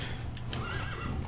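D-Horse, the horse from the video game Metal Gear Solid V: The Phantom Pain, gives a brief wavering neigh over the quick rhythmic thud of galloping hooves, loud and close.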